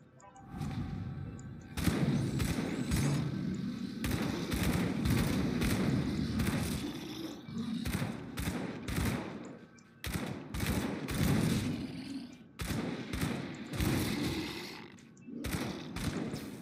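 Rifle fire in the action RPG Grim Dawn, with clusters of sharp, booming shots and thuds coming in bursts separated by brief pauses. The shots are loud and close, layered over a low, dense combat roar.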